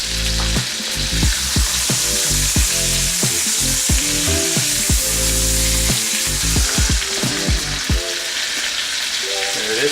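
A pan-seared NY strip steak with melted butter sizzles loudly in a hot pan after flipping, a dense constant crackle broken by clattering knocks of a utensil against the pan.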